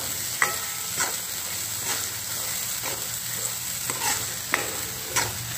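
Pumpkin curry sizzling steadily in hot oil while being sautéed, with a spatula scraping and stirring the pan in repeated strokes every second or so, close and moderately loud, no voices.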